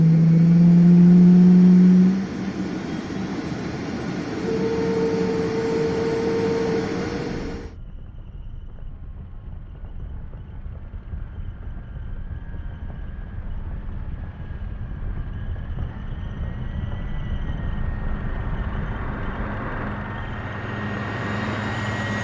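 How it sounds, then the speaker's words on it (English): M1 Abrams tank turbine engine in the game Squad, a steady high whine with a low rumble that holds constant, then drops abruptly to a quieter, duller drone for the rest, no talk. "The Abrams in both the M1A1 and the M1A2 have a turbine engine."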